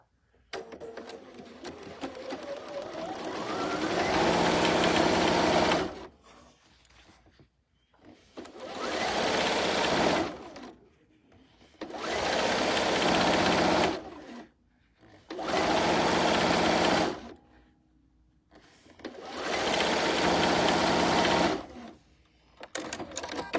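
A sewing machine stitches a quarter-inch seam on table runner fabric pieces placed right sides together, running in five loud bursts of steady whirring separated by short pauses, with no talk.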